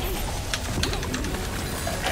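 Inside a video game, a bird coos softly among steady ambient game sound, its gentle calls fairly faint and partly buried in the background.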